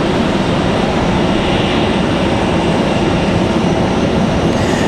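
An American Airlines Boeing 737 departs Raleigh-Durham for Philadelphia, a loud continuous jet roar, dense and steady throughout the five seconds, with no voices.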